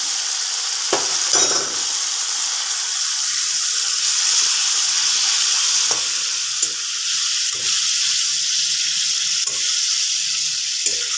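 Boiled tomatoes added to ginger frying in a pan in a home kitchen, a steady bright sizzle that runs throughout, broken by a few soft clanks and stirring knocks.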